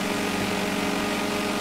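A Kawasaki Z1000 motorcycle engine at speed while racing a BMW F800, a loud, steady droning roar with no breaks or gear changes through the short stretch.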